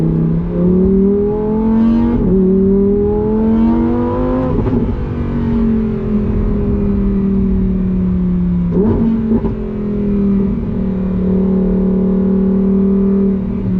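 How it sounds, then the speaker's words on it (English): A 640-horsepower Lamborghini Huracan Tecnica V10 revs and downshifts, its engine note rising and then dropping sharply several times, loud and close with crackling blips between gears. "640 horsepower Lamborghini Tecnica. Ooh, and downshift and"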